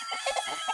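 Chickens cluck in a quick, close run of soft calls over a constant background hum.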